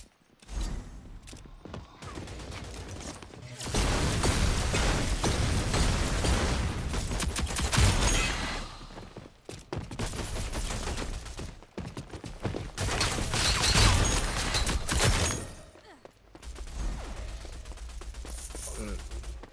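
Rapid gunfire from weapons in the shooter video game Rogue Company, dense sustained bursts of shots broken by short pauses, loud and close, with a player talking over the action.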